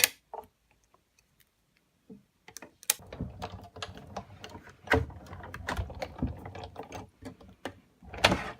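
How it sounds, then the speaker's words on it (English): Die-cutting machine cranking leaf outline dies through cardstock for a masculine card, giving a run of close, clicking mechanical ratchet and gear noises with uneven bursts and brief pauses, no voices. "Then I'll get the outline die for each of them. and cut those out."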